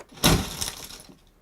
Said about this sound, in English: Glass breaks.